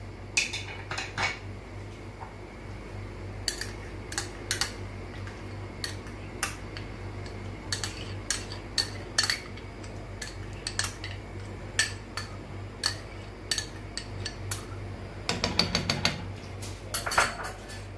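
Repeated metallic clinks and taps of a spoon stirring cream into milk vermicelli pudding in a pot, irregular and close, with a denser flurry of scraping near the end.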